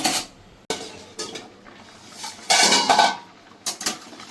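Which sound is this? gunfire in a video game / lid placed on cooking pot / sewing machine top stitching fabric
lid placed on cooking pot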